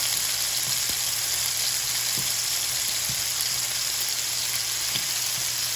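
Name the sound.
steak searing in the pan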